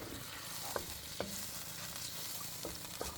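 A split chickpea and beef stew is stirred in a pot after beef broth goes in, a soft steady bubbling hiss with a few light spoon taps against the pot.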